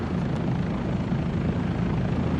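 Bell 407 helicopter in Microsoft Flight Simulator 2024, a steady, dense rotor and turbine drone that holds loud and even for the whole stretch, with no voices over it.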